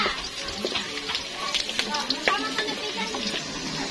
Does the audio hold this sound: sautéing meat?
yes